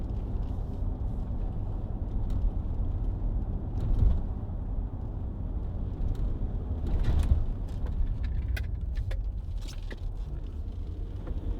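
A Land Rover Range Rover Sport 3.0 SD V6 HSE 4x4 diesel on the road, a steady low engine and tyre rumble heard from inside the cabin with occasional small knocks.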